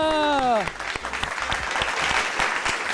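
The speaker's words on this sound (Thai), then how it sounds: "ไม่เป็นไรครับอ้าวปรบมือ" Audience applause breaks out at a school science activity with timed team runs, a dense wash of many hands clapping right after a brief gliding voiced tone, with voices heard over it.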